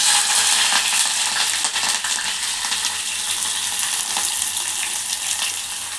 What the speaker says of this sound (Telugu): ఇది కొంచెం చిట్పట అన్న తర్వాత ఇలా ఉల్లిగడ్డ పచ్చిమిర్చి వేసుకున్నా